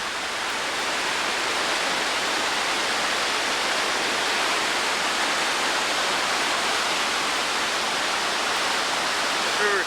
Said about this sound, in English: River is fairly low now, but if it rains tonight, it will be over these rocks here on the side.